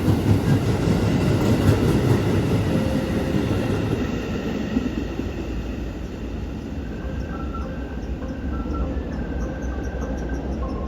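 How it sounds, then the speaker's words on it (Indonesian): KRL commuter line electric train, a JR 205 type unit, rolling into Matraman station in Jakarta: a loud, close rumble of wheels and motors that eases slightly as it slows, with faint high squeals above it. "rangkaian masuk stasiun Karet"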